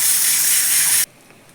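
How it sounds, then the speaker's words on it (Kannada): Pressure cooker on a gas stove, heat already off after five whistles, letting out a loud, steady hiss of escaping steam that cuts off abruptly after about a second, leaving near silence. "ಅದು ವಿಸಿಲ್ ಸೌಂಡ್ ಸ್ವಲ್ಪ ಹೋಗ್ತಾ ಇದೆ ನೋಡಿ"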